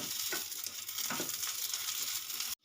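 Kharkol leaf paste sprinkled with poppy seeds cooks on a very low flame, a soft steady sizzle with a few light stirring scrapes that cuts off abruptly at the end.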